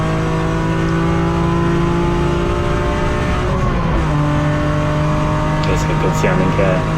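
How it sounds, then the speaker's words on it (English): A BMW race car at speed during qualifying at Hampton Downs, its loud in-car engine holding a high steady note, dropping sharply on a gearchange and then climbing again, with a voice talking over it. "It's a good sounding car."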